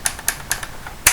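A spring-powered M14 airsoft gun's safety switch gives a string of small, sharp plastic clicks, four light ticks followed by one louder snap, close up and alone.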